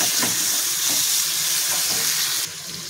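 Fish pieces frying in spicy masala for a sour fish curry, a loud, steady close-up sizzle with bright hissing crackle and occasional stirring scrapes, easing slightly near the end.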